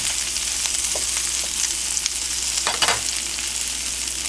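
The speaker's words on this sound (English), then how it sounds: "While the jalapenos are getting crispy in the pan" Jalapenos fry in spicy olive oil in a cast iron skillet with a steady, bright sizzle, punctuated by a few brief stirring clatters and pops partway through.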